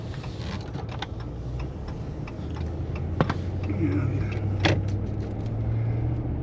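A car drives toward Seal Harbor, Maine, its low steady road rumble filling the cabin alongside scattered ticks and soft clicks, with the engine noise swelling slightly midway through.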